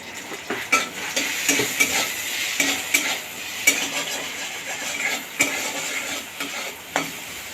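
Sliced okra fries in hot oil in a pan, a soft sizzle broken by frequent clinks and scrapes of a spoon stirring against the metal, close and without speech.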